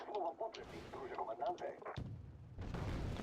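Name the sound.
mortar fire in video game Wargame: Red Dragon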